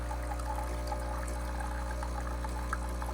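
Hot water runs steadily from the wand of a Breville Barista Touch espresso machine into a large cup, a soft continuous stream over a low mechanical hum from the machine, fairly quiet and close.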